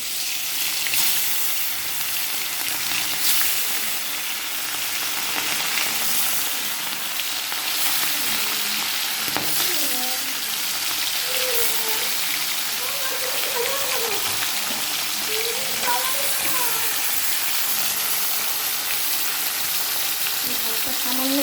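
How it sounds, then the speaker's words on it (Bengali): Fish pieces coated in salt and turmeric fry lightly in mustard oil, with a constant, close sizzle running throughout and faint talking in the background partway through. "নুন হলুদ মাখানো মাছগুলো আমি একটু হালকা করে ভেজে নেব"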